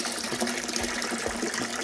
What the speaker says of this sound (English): What I've done is just basically poured the water in the bucket and refilled the bag up with water to rinse it out